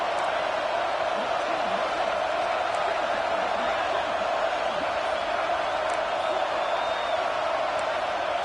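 A football stadium crowd roars in a constant, loud wash of cheering with occasional whoops, the broad din filling the whole stretch without letup.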